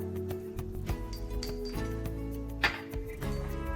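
Cake batter for a mandarin orange cake mixed in a bowl, heard as steady clinking and scraping of utensil against the bowl, with a sharper clink near the end and music playing underneath.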